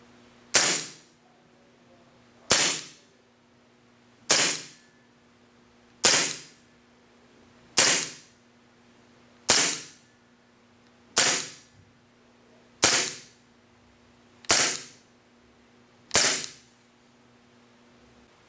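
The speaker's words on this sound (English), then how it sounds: "it looks like the KP8C shoots anywhere between 260 and 300 FPS" A KWA KP8C compact gas blowback airsoft pistol fires eleven sharp, loud cracking shots at an even pace of roughly one every 1.7 seconds, each with a short ringing tail, against quiet background hum.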